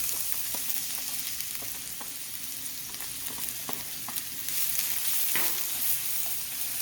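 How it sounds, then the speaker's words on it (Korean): Onions frying in a lightly oiled pan give a steady, close sizzle, with occasional stirring clicks and scrapes over the continuous crackle and no talking. "팬에다가 기름을 살짝 두르시고 충분히 팬을 담궈 주신 다음에 양파를 볶아줍니다"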